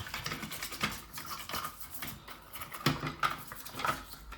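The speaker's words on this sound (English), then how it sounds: "I'm cleaning it with an old toothbrush under running water to start." An old toothbrush scrubs a toilet cistern part briskly back and forth in quick, irregular strokes, close and soft, over a faint wash of running water in a sink.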